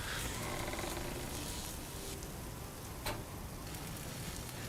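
Dense, even rain noise fills a Broken Sword 4: The Angel of Death game scene, a constant close hiss with one faint sharp tick near the end and no voices.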